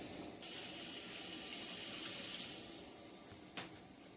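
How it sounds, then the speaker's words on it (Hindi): Water is poured from a tap-like stream into a pan of keema and tomatoes, a steady close hiss lasting a few seconds, then fading, with a brief clank near the end. "तो इसलिए थोड़ा सा पानी डालते हैं इस पे"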